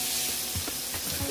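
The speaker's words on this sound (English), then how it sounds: "Mix it all up" Sautéed shrimp gets mixed in a hot pan, a steady sizzle with a few soft scraping stirs, close and moderately quiet with no talking.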